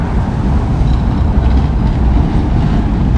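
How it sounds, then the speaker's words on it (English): A tourist train in Lagos, Portugal passes very close, its loud, continuous low rumble filling the air without a break. "And here is a train coming."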